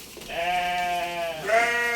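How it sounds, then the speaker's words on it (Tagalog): Goats bleat loudly and close by at feeding time, two long wavering cries one right after the other, with no talking. "ayun po nagpakain po, po ng mga alaga nating kambing"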